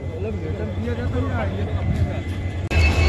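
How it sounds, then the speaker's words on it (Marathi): A train pulling out of Vighanwadi station toward Beed on a railway CRS inspection run, heard as a low, steady rumble with someone talking over it throughout. "तर मित्रांनो आता ही ट्रेन निघाली आहे बीडच्या साईडने पाहू शकता."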